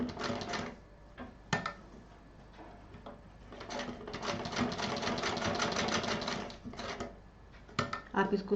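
A sewing machine stitches velcro onto fabric for a storage pouch, running in a steady rapid whir with short stops and restarts while someone talks over it.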